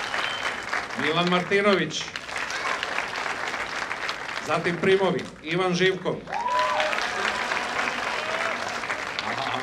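An audience applauds members of a tamburica band at a performance in Zemun, with steady, dense clapping throughout while an announcer speaks over it.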